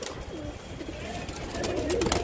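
A wild pigeon coos softly inside a net trap amid rustling and faint background noise, with a slight flutter near the end.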